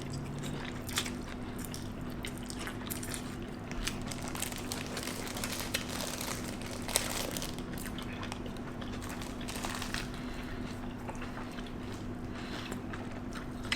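Faint, close biting and chewing of spicy food at a casual mukbang meal: soft squishy mastication and small crunchy clicks over a quiet steady background, with no talking.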